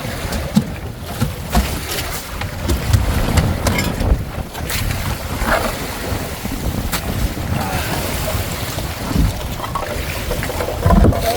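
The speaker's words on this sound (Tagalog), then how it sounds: "Grabe ng alon." A boat pounding through big, rough sea waves at night, with heavy broadband rushing of water and wind buffeting the microphone, loud and continuous with repeated thumps as hull meets swell.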